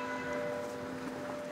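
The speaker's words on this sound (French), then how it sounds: "où même le son des cloches est d'origine haut-savoyarde" Church bells ring in Châtel, an alpine village in Haute-Savoie, as a faint, steady, sustained tone heard from a distance, with no voices.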